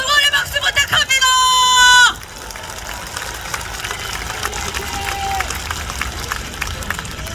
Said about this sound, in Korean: 응원의 박수 부탁합니다